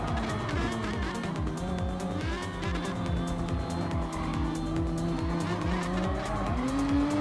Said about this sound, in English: Irish car sounds much cooler than mine.